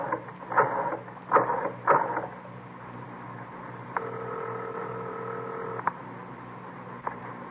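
A telephone is dialed in a 1952 radio drama: a few sharp clicks, then a steady tone that holds for about two seconds and ends with a click, with no talk over it.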